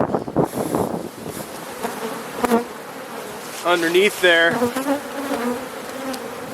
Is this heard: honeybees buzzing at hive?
yes